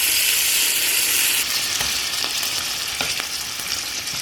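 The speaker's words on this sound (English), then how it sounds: "I'm going to go ahead and put these in that pan and stir fry them with a little bit of salt and pepper" Food sizzles steadily in a skillet with olive oil and butter while being stir-fried with salt and pepper, a constant hiss with a few soft scraping stirs near the end.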